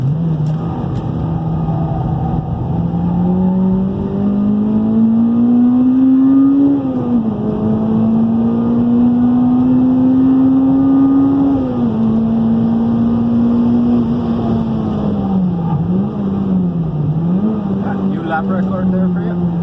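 A Toyota GT86 with an OFT tune drones loudly from inside the cabin under full throttle in sixth gear, the engine note climbing slowly with a couple of brief dips. A person talks over the steady engine noise.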